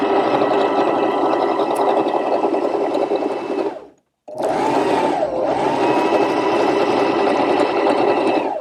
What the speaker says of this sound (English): Then I can use my foot control to start winding the bobbin.